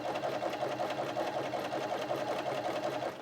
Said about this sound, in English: So as we start to sew, this is going to be the first leg of the buttonhole.